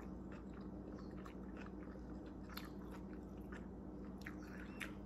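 Crunchy Vietnamese spring rolls bitten and chewed close up, with a steady run of crisp crackling bites and mouth noises throughout.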